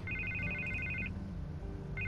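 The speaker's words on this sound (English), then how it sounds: "I can't get the phone to stop ringing." Telephone ringing in the Batman Telltale video game: a repeating electronic ring in short bursts, pausing briefly before starting again, steady and moderately loud with no talk.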